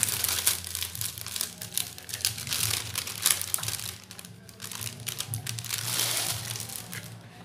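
Jute paper sheets, one baby pink and one white, crinkle and rustle loudly and close up as they are handled, in a continuous dense stream with brief lulls.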